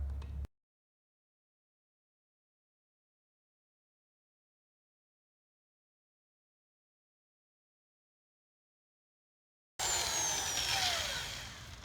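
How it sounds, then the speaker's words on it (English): A power drill bores into a rivet head on the frame of a 1981–1991 one-ton 4WD truck, whining and grinding loudly at close range for a couple of seconds after a long silence. "We're going to drill through the head of the rivet and hopefully hit through the frame"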